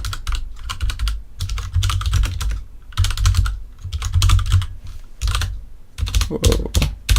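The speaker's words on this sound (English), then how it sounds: "I'm missing all the keys today. I'm not really sure why. So I'm just gonna have to type slowly." Fast typing on a computer keyboard at a desk, close and crisp bursts of key clicks in clustered runs with brief pauses between, no talking.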